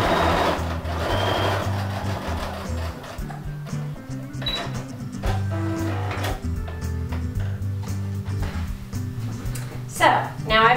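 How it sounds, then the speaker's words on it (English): A sewing machine stitching a zipper fly hums in steady rhythmic runs, close and continuous, with clicks and handling noises layered over it. "continuing sewing by machine"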